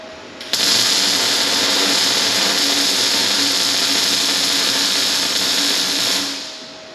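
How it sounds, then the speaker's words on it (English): A wire wheel grinding along a welded metal edge while reinforcement tabs and braces are fabricated for a Kawasaki KRX 1000: a loud, steady, harsh whine lasting about six seconds that starts abruptly and then winds down. "I'm gonna go ahead and hit this with the wire wheel along that edge there"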